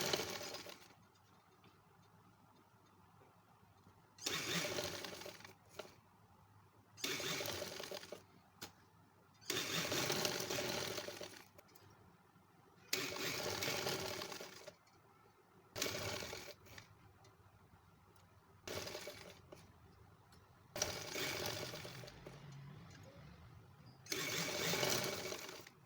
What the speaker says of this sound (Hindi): मैं ये सारा आपको स्टिच करके दिखाती हूँ